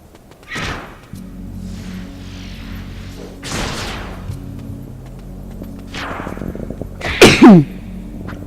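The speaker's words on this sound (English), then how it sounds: "Excuse me, I'm sneezing a lot." A few sharp sneezes spaced through the clip, the last one loudest, over low background hum and faint rustling.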